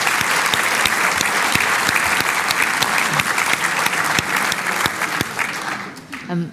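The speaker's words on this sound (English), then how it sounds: "Can we give her a huge round of applause too?" Audience at a writers' festival event gives a sustained round of applause, dense and steady for about six seconds before tapering off at the end.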